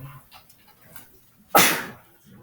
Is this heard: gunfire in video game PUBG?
no